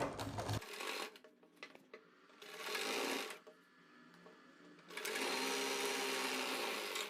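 A sewing machine runs in several bursts while stitching the seam of palazzo pants, close and steady whirring separated by short pauses, the last run continuing to the end.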